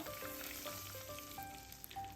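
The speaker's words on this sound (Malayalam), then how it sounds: "ഉലുവയും പെരിഞ്ചീരകവും പൊട്ടി വരുന്നുണ്ട്" Fenugreek and crushed fennel seeds crackle and sizzle in hot oil, a steady frying hiss with scattered small pops throughout; no voices.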